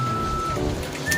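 Rain falls steadily at a railway station in Hungary while people wait for an old train, making a constant close hiss of drops with faint tonal sounds in the background.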